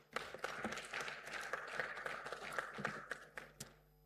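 An audience at a national safe motherhood conference session claps for a keynote speaker, a moderate spread of hand claps that tapers off with a few final isolated claps.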